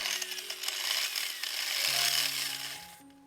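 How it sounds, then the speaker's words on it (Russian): An angle grinder works the inner grooves of a metal 2M112 machine column, giving a loud, continuous high-pitched grinding whine that holds steady for about three seconds and then cuts off. "внутренние канавки будем чистить болгаркой"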